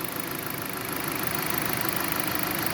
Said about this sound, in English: Okay, with the motor running.